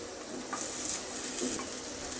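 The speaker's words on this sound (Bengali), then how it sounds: "আমি এখন এগুলো একটু ভেজে নিব" Steady hiss of taro pieces frying in hot oil in a wok, a close, even sizzle with faint crackles and no talking.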